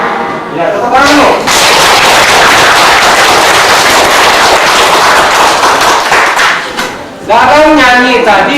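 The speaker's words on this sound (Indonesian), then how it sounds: "Ya, tepuk tangan lu." A group of workshop participants claps hands in a loud, dense burst that goes on for several seconds and then stops, with voices briefly heard before and after.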